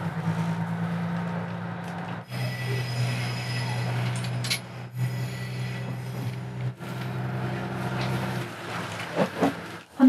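A JR Hanawa Line local train rumbles and hums as it pulls away from Morioka Station, wheels clattering over rail joints with occasional squeals and clunks, fairly close and steady.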